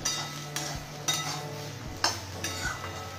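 Raw banana bhujia being stirred in a pan, a spoon scraping and tapping against the metal at irregular intervals over a low steady cooking hiss, close and fairly quiet with no talking.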